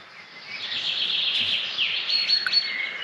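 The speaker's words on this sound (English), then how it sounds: "To wake up to that bird song" Wild birds chirp and sing continuously in a natural outdoor setting at dawn, a dense chorus of high tweets layered at moderate distance with no talking.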